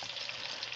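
Singapore noodle ingredients such as egg, shrimp, pork and vegetables frying in batches in a pan, a steady, soft continuous sizzle heard alone.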